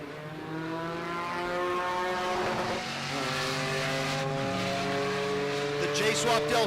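Drag racing cars, a J-swapped Honda Del Sol and a GTO, at Pueblo Motorsports Park, with engines revving in climbing harmonic tones and shifting gears. An announcer talks continuously over the cars.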